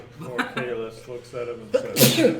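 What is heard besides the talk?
a person sneezing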